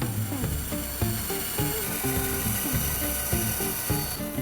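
A bandsaw making a relief cut through a wooden serving tray piece, heard as a steady, loud, high-pitched whining hiss that runs the whole time over a rhythmic tonal backing in the lows.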